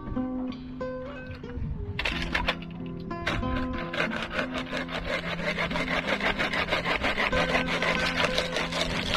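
Rhythmic back-and-forth sawing through wood, the strokes speeding up into a steady rasping pattern after a few slower pulls, close by with no talking.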